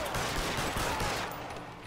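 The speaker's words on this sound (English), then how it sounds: "I shot the guy's hand off." Gunfire in the crime video game L.A. Noire, a rapid burst of several close, loud shots blurring into a continuous rattle before trailing off.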